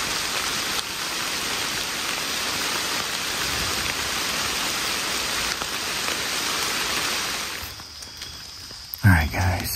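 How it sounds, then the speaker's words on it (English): Heavy storm rain falls in the woods as a dense, steady hiss that cuts off abruptly near the end, followed by a brief rustle. "Here comes the rain."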